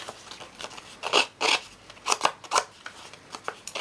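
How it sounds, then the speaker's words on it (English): Scissor blade edges scrape and rasp against paper to distress an envelope edge in a series of short, irregular strokes, close by and fairly quiet. "I'm going to just distress this a little bit more with the edge of my scissors"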